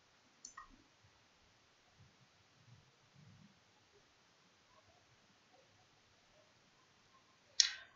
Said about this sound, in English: So I will fill the form and click on register.